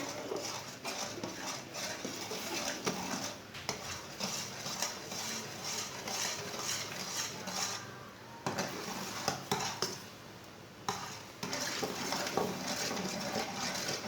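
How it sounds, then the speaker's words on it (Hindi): Makhana and roasted chickpeas stirred with milk in a pan, a steady clatter and scrape of a spoon against the pan with brief pauses, close and continuous for the whole stretch. "दूध के साथ इसे अच्छी तरह मिक्स करना है।"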